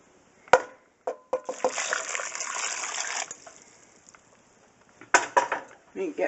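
Water gushes into a metal pot for about two seconds, preceded by a clank of cookware, with a few more metallic knocks and clatters afterward.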